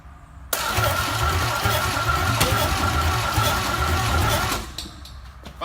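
A Chevrolet El Camino's engine cranks steadily with a rhythmic chugging from the starter for several seconds without catching, close and loud, then stops.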